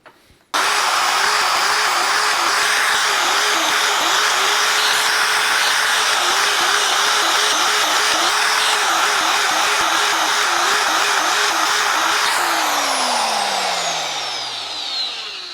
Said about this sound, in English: I'm just going to drill the rest of these holes out